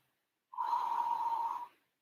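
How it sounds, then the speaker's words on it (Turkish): A single forceful exhale during an abdominal fitness exercise, a breathy rasping push of air lasting just over a second, close and clear, then silence. "Nefes vererek kapatıyorum"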